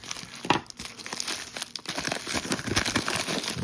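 A paper envelope holding a lot of 1980s vintage trading cards is snipped and torn open, giving steady close crinkling and tearing with a sharp rustle near the start and no talking.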